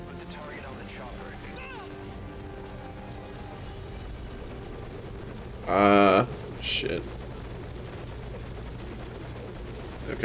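Helicopter in the video game Metal Gear Solid V: Ground Zeroes, a continuous rotor drone throughout with a brief loud burst partway through and a voice swearing once.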